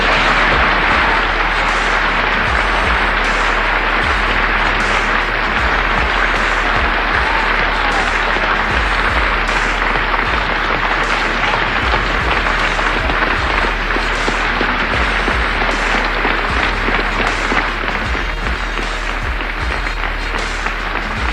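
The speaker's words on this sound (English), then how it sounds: "The whole of the Union standing and applauding this magnificent speech of James Baldwin." A full hall audience at the Union rises in a standing ovation after a James Baldwin speech, dense sustained applause roaring evenly throughout without letting up.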